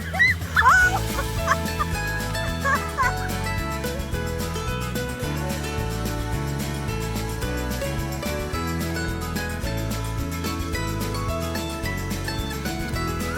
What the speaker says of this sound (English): That's a happy dog right there.